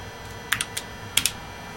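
A handful of sharp keyboard clicks in two short bursts on the clacky keyboard of an original Compaq Portable computer, nearby with quiet background hum.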